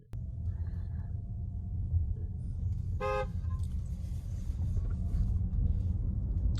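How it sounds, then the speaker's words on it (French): A single short car horn toot from a Tesla with a yoke steering wheel, over the steady rumble of the car interior on the road. "Le petit klaxon."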